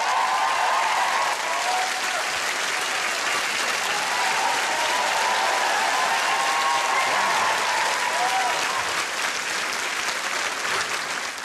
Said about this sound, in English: give a warm round of applause and welcome back to Robbie